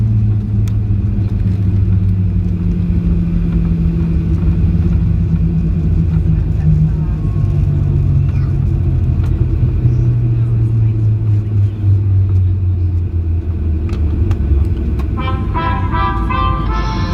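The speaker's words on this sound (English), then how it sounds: "You can hear the steel brakes." Ryanair Boeing 737-8AS(WL) slowing on the runway during landing rollout with steel brakes, a loud, steady low rumble and roar of wheels and engines continuing throughout, joined briefly near the end by a fainter higher tone.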